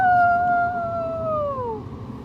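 A voice imitates a werewolf howl, one long sustained wavering cry that slowly slides downward in pitch and fades out.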